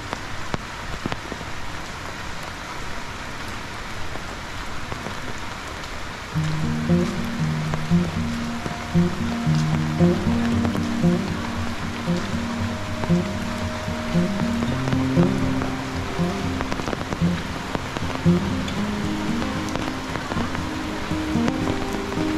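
Steady rain falls at a beach resort, a continuous soft patter throughout, later joined by a low repeating musical tone underneath; no one speaks.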